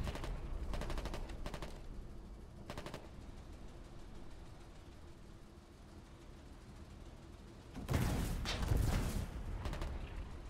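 Bursts of rapid machine-gun fire from an MG pillbox in the game War 83, a snowy battlefield, rattle out in short volleys, with a louder, heavier flurry of shots near the end.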